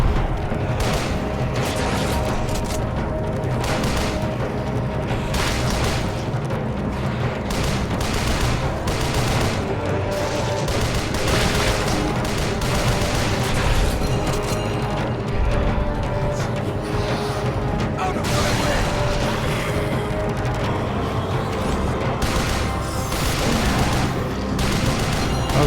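Enemies fire continuously in Shadows of the Damned, a dense, loud barrage of overlapping shots and booms that never lets up, layered over game music and effects.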